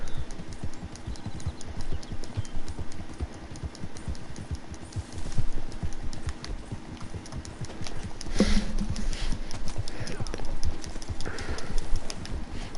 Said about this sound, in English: See how fast that horse is.